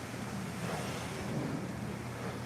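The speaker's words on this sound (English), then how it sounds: "Windy as hell." Steady broadband wind rushes across the microphone with a low rumble, continuous and fairly loud throughout, no voices.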